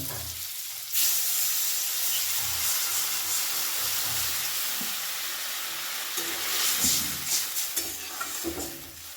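A little water hits bitter gourd cooking in a hot pan, setting off a sudden loud hissing sizzle that holds steady, with stirring scrapes and light crackles near the end.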